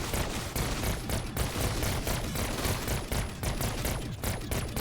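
Rapid automatic gunfire from a weapon with a rapid-fire attachment in Black Ops 6 Zombies, a loud, dense, unbroken stream of shots that runs the whole time.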